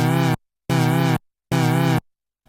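Three sustained synthesizer notes with LFO phase modulation applied to both parts in unison, each a rich harmonic tone with a gentle wobbling pitch sweep, separated by short silences and played alone at steady loudness.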